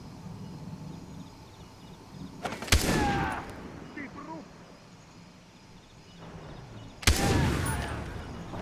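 Gunfire in the shooter game Far Cry 3: two loud, sharp bursts a few seconds apart, each trailing off into echoing rumble, with quieter ambience between and someone talking softly.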